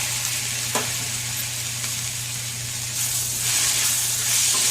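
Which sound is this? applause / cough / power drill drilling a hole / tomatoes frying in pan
tomatoes frying in pan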